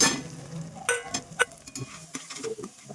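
Ground spices (red chilli powder, black masala, turmeric, onion-garlic masala and garam masala) fry in hot oil in a pan, a soft sizzle broken by several scraping stirs and light clinks of a utensil.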